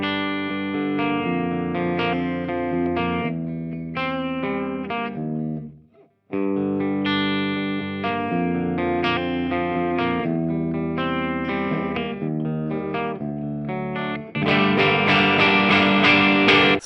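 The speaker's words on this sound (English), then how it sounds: "playing through my solar guitar into my Hughes & Kettner Switchblade 50 watt with 606s instead of EL34s" Electric guitar through a Hughes & Kettner Switchblade 50-watt amp fitted with 6L6 power tubes, played as a clean tone with a little reverb: steady chords and ringing single notes, loud and close, with a brief gap midway and a fuller strum at the end.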